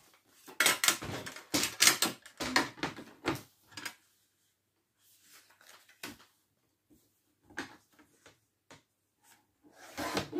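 Scissors snipping through paper for a handmade junk journal, a series of close, crisp cuts and rustles in uneven bursts separated by quiet pauses.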